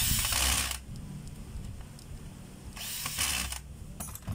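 A DeWalt DW810 4-inch angle grinder runs on test in short bursts, a whining mechanical spin that swells, fades to a lower rattle, then revs up again, close and alone.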